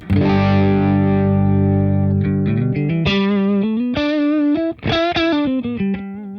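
Electric guitar notes and chords played through a JHS 3 Series reverb pedal, ringing out with a wash of reverb trailing each one, played alone and fairly loud.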